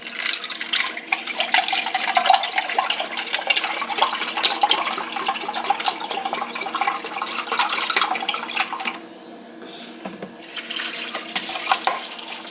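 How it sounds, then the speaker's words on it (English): Beef broth poured into a pan for a one-pan weeknight meal makes a steady, close splashing rush of liquid that holds for about nine seconds, drops briefly, then resumes. "I'm going to add in the beef broth."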